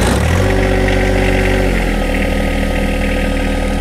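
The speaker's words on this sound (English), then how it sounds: "then we can go ahead and start the tractor" A John Deere 1025R compact tractor engine cranks and catches, then settles into a steady loud diesel idle, heard close with no talk.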